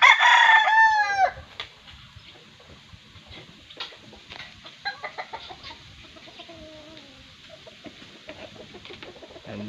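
A wild junglefowl rooster crows loudly and close at the start, then follows with scattered soft clucks and short calls over a quiet outdoor background.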